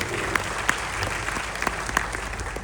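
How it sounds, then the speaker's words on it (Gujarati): Audience applause at a creators' event: a steady crowd clapping throughout, with a few sharper individual claps standing out, fairly close and without talk. "સૌપ્રથમ તો આપ સૌ માટે જોરદાર તાળીઓ થઈ ગઈ"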